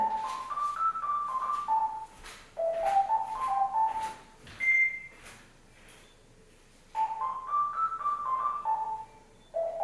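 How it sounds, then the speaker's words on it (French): A telephone rings with a melodic ringtone, repeated bursts of quick rising and falling beeping notes separated by short gaps of quiet, fairly faint with no talking. "j'ai le téléphone qui sonne"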